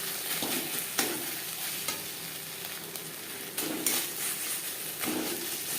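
Tilapia fish curry simmering in a pan on a low-medium flame, giving a steady soft sizzle with occasional spoon scrapes and stirring knocks at intervals, close and moderately quiet.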